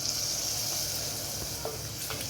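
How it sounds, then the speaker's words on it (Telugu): Constant soft sizzle of onions frying in a pan, close and even, with a faint scrape or two partway through. "ఆనియన్స్ వేగుతున్నాయండి."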